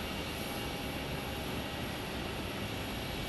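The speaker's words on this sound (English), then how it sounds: "There should be a flight coming in from Cedar Rapids, Adam." A plane roars steadily overhead at Phoenix Sky Harbor International Airport, a faint broadband engine drone that holds without a break and has no voices over it.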